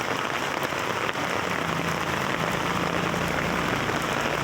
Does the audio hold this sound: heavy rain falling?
yes